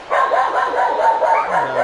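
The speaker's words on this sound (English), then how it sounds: "the dogs are barking. Somebody is here." Several dogs bark repeatedly at a delivery person arriving at the door, a steady run of close, loud barks and yips filling the moment with no pause.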